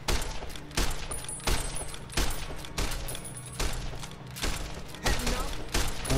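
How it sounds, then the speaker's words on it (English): Varmint rifle firing in Fallout: New Vegas, about eight sharp, loud shots spaced roughly evenly under a second apart, each with a short echoing tail over a low background hum. "The varmint rifle sucks."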